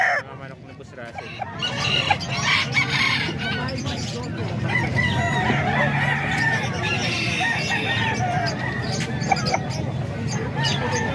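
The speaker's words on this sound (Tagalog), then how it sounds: "Mga manok ni Boss Russell." Flock of chickens at Boss Russell's place in Calumpit, with roosters crowing and hens clucking continuously at close range amid a busy yard, with a voice speaking intermittently.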